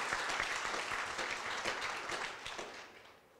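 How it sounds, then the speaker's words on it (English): Audience at a world organic youth summit applauding, dense clapping from a crowd that holds steady and then fades toward the end, fairly faint and with no talk. "we should give them a huge round of applause"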